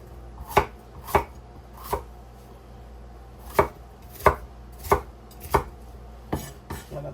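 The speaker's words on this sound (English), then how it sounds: "I'm just roughly chopping it. Well, roughly chopping it in the sense of in big chunks." A knife chops beef into big chunks on a board, about ten sharp, separate thuds in uneven clusters, close and fairly loud, with no voices.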